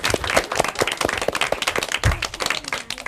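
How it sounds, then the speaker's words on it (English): Audience applause at an elementary school academic quiz match, a dense burst of clapping from a room of people that carries steadily from start to finish with no talk over it. "Round of applause for yourselves."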